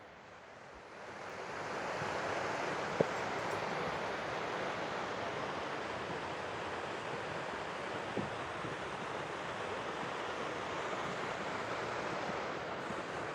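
Steady rushing river water fills the scene, a broad constant roar outdoors that rises in over the first two seconds and then holds.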